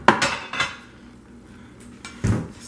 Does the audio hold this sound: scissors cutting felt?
no